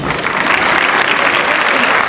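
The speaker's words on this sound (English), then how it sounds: "Let's welcome them with a thundering round of applause." Loud, thundering applause from a school assembly audience welcoming guests at a recognition day event, a dense, sustained roar of clapping filling the whole span.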